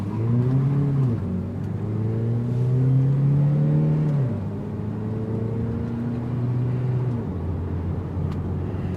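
A Kia Niro accelerates hard in sport mode, its motor whine rising steadily in pitch over road rumble, easing off and climbing again several times, close and continuous with no talk.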